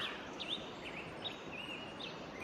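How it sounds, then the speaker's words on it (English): Faint early-morning birdsong in Nevada City, California: several thin, high chirps and whistled phrases repeat at intervals over a soft, steady background hiss, distant and quiet, with no talk. "you can just hear the birds have been singing since I've been up around 3:30 a.m."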